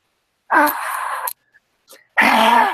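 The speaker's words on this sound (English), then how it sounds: "just the breathing, like a strong breathing" Two long, forceful exhalations of heavy breathing, close and loud, separated by a short pause with a couple of faint breaths.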